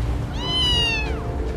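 A cat held in someone's arms gives one clear, drawn-out meow with a rising then falling pitch, close and fairly loud over a low steady background hum.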